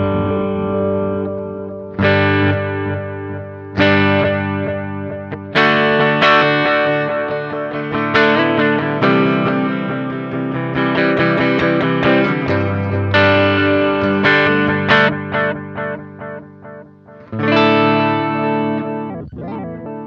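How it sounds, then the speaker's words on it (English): A Sonicake Levitate delay pedal repeats distorted electric guitar strums as its time control is turned, the echoes warping in pitch like a tape machine, with a run of chords and trailing repeats close and loud, no talking. "if you turn that time control, it gets all warpy, as it would if you were manually turning the delay control on like a tape machine"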